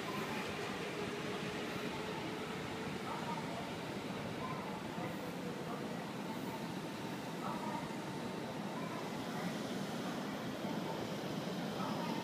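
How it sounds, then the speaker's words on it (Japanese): A JR Central Tokaido Line section rapid train bound for Ogaki arrives at Kanayama station at night, a steady, loud rumble and rolling hiss filling the platform, with station announcements heard over the sound. "21時54分発区間快速大垣行き到着いたします。"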